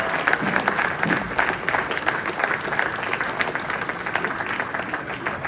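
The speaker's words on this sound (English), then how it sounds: "A round of applause for these guys." Sustained audience applause at a congressional candidate's campaign event, a dense steady wash of many hands clapping with some crowd murmur, filling the whole stretch at a fairly even loudness.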